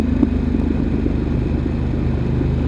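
A 2023 Harley Pan America motorcycle engine runs steadily while riding in highway mode, a continuous low rumbling drone with a faint periodic throb and wind noise, loud and close throughout.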